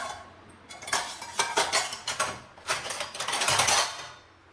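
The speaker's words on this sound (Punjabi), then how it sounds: "ਤਾਂ ਪਹਿਲਾਂ ਆਪਾਂ ਕੁੱਕਰ ਚੱਕ ਲਈਏ" A pressure cooker and metal pots handled in a home kitchen, several loud clanks and scraping knocks of metal on metal in two uneven bursts, close by with no talking.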